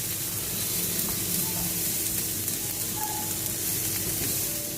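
Chopped onions fry gently over low heat, giving a soft, even sizzle and hiss with faint stirring underneath, heard alone from start to end.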